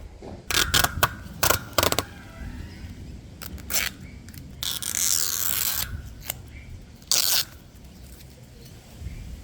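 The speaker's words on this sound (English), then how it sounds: "when you start to tear it, it tears right along that fabric, and it goes nice and straight" Cloth-based gaffer tape is torn in several short, sharp rips, with one longer tearing stretch near the middle and soft handling noises between them, close and without talk.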